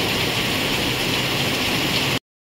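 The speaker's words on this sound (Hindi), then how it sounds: "बहुत ही अच्छी बारिश हो रही है।" Heavy monsoon rain falls in strong wind as a dense, steady hiss with no speech. It cuts off abruptly near the end.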